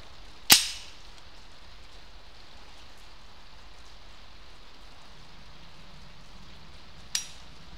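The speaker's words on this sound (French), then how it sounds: "tir du deuxième chargeur" Old ammunition fired from a second magazine, with a hangfire: one loud sharp shot near the start, then a long quiet pause with rain-like patter, and a second fainter crack late on.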